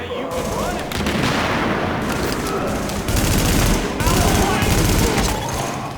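Gunfire in the video game The Division, dense rapid bursts of automatic shots crackling almost continuously, loud and close, with a voice faintly under the firing.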